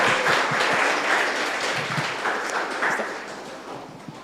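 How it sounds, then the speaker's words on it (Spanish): A church congregation applauds during a Sunday service, a dense, steady wash of many hands clapping at once that fades slightly toward the end, with no voices standing out. "aplauso, aplauso."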